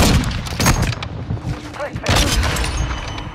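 Repeated gunfire bursts in a Call of Duty: Modern Warfare 2 match, loud and close with sharp cracks and echoing tails, while a voice talks beneath the shooting.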